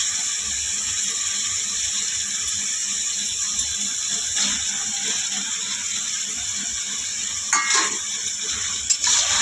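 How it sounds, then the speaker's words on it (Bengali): Chicken going into a pan of cooked-down spice paste that is already releasing oil, giving a steady, fairly quiet sizzle with a few scraping stir sounds and no talking. "তারপর আমরা চিকেনটা তুলে দিচ্ছি কষানোর জন্য।"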